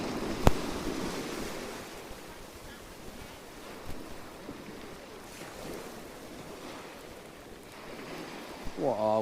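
Waves break steadily on the shingle beach at Pevensey Bay, a continuous near wash of surf with gusty wind noise buffeting the microphone and a few brief clicks.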